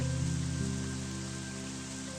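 A heavy downpour in the video game Pandora, heard from just inside shelter: a dense, even roar of rain that holds steady and slowly eases slightly over a couple of seconds, with no voices.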